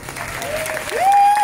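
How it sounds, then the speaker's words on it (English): A studio audience at a singing competition taping claps steadily, with a tonal whistle or cheer rising over the applause toward the end. "give them a round of applause"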